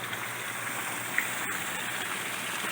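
Water draining out of fish breeding tanks during a water exchange, a steady, soft rushing and splashing flow with no pauses.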